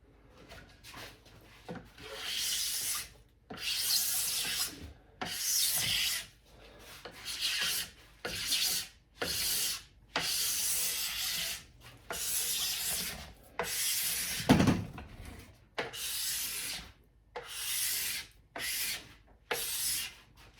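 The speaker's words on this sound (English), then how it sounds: "once you've scraped your ski and you've gotten all of the major wax out of the pores" A plastic scraper strips wax off a ski in repeated rhythmic strokes, about a dozen rasping scrapes each lasting a second or so with short pauses between, close and clear with no talk.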